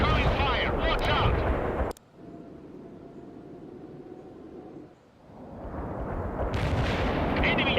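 Incoming artillery fire in the video game World in Conflict: loud booming bursts under game voices at the start and end, with a quieter rumbling stretch in between.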